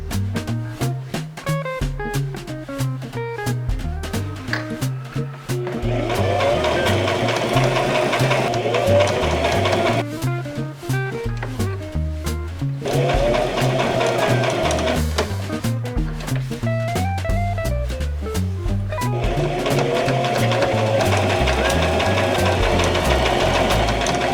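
A sewing machine sews a fabric star onto a black top, running in several bursts of fast rhythmic whirring separated by short pauses and slower stitching, close and steady.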